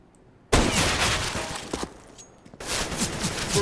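Gunfire in CS:GO on Dust2 during a pro match, bursts of rapid automatic rifle fire that start suddenly after a quiet moment, briefly pause, then resume loud and close.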